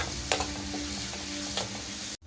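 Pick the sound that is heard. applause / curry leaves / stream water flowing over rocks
curry leaves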